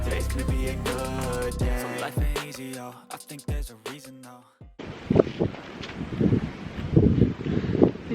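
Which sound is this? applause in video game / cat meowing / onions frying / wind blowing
wind blowing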